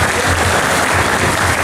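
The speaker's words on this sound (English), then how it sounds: "let's have a round of applause for our raffle model show stars" An audience at a fashion show at Labelexpo applauds the models, loud, dense clapping filling the whole moment without a break.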